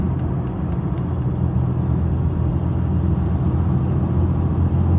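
Diesel Jeep Gladiator engine working hard at high revs after a downshift on a steep mountain interstate climb, a loud, steady low drone and rumble from inside the cab.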